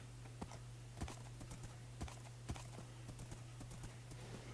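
Horse hooves clip-clop at a steady, uneven trot in the video game Paradoxia, faint and close, over a constant low electrical hum.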